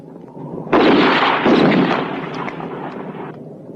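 Sustained, loud gunfire in a western movie shootout, a dense burst of shots and blasts running together for about two and a half seconds before fading.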